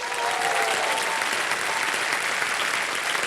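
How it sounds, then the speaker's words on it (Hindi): Steady, loud applause from the studio audience on the KBC TV quiz show, a dense wash of clapping that fills the room evenly from start to finish, with no voices over it. "ताली बज जाए"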